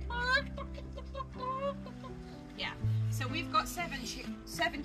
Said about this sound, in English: So we've got seven chicks.